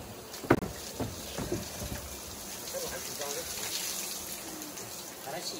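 Wild vegetables are sloshed and rubbed by hand in a basin of water in a rural riverside setting, giving soft splashes and trickling with a sharp knock early on and people talking faintly.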